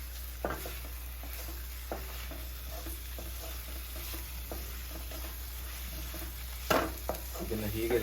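Chicken sukka frying in oil in a pan: a steady low sizzle runs throughout, broken by occasional soft stirring scrapes and a louder clatter near the end, heard up close with no talking.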